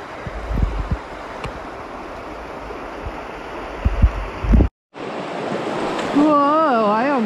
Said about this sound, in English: I got us a waterfall.